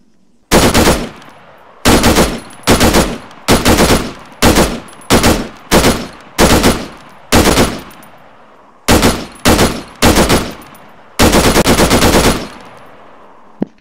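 A machine gun firing 7.62 rounds in a video game mod rattles out a dozen loud, close bursts, each a short rapid string of shots with brief pauses between, ending in a longer burst.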